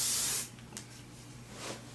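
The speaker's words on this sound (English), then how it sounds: "then of course spray it right away because it's still really hot" A short, loud hiss of hairspray bursts at the start and cuts off, followed by quiet rustling and a faint second puff.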